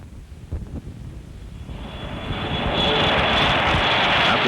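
North American XB-70 aircraft engines roar, building from a low rumble into a loud, steady jet roar with a rising whine, heard close and alone.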